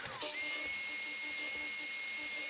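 A table saw cuts through the end of a plywood sheet to form a rebate, giving a loud, steady high-pitched whine that holds without pause after a brief start.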